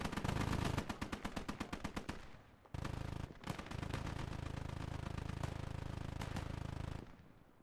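A .50 cal machine gun fires in a war video game, rapid loud bursts of heavy automatic fire, a rattling run, a brief pause, then a longer sustained stream before cutting off.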